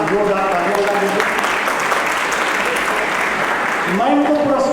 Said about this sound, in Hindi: सब लोग एक बार जोरदार तालियां बजा दीजिए।